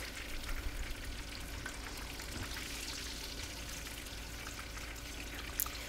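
Chicken pakora fries in hot oil, giving a steady, even crackling sizzle at close range with a small pop near the end; no voices.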